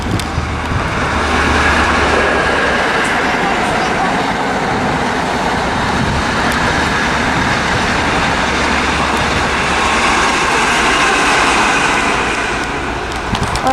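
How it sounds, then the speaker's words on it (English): An HST high-speed train from London Paddington to Bristol Temple Meads passes through Didcot Parkway station, a loud, steady rumbling roar that holds for the whole stretch and eases slightly at the end. "Passing through now, we have a HST from London Paddington"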